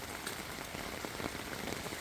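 Steady rain falling over a pepper field, a dense even patter of drops filling the whole span without pause, close and fairly loud, with no voices.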